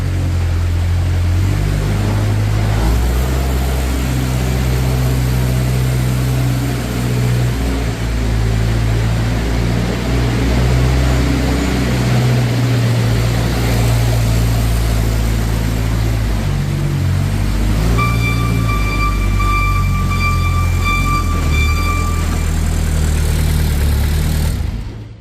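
A 2014 Moffett M55 truck-mounted forklift drives around inside a shop, its engine running with a steady, loud mid-pitched drone and shifting rumble, joined near the end by a brief high whine.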